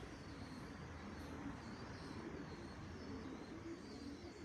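Pigeons coo softly in short repeated phrases at a pigeon loft in Belgium, set against a constant broad outdoor hiss, with no talking.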